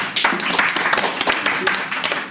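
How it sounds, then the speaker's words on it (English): A small group applauding Steven: brisk, uneven clapping from a few close pairs of hands, lasting the whole short stretch without talk. "let's a big round of applause for Steven"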